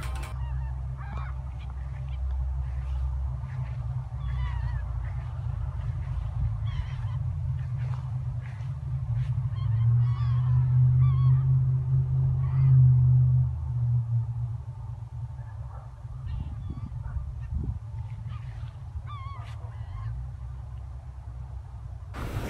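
A flock of gull-like birds calls loudly with harsh, crow-like honking cries. The calls repeat steadily over a continuous low rumble and swell louder for a stretch in the middle.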